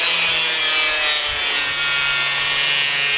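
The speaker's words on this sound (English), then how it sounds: "I'm gonna be cutting this out around the lip using my cut-off wheel." A cut-off wheel grinds through the sheet-metal lip around a BMW E30 sunroof opening, a loud continuous harsh hiss-whine that holds steady throughout, close up with no voices.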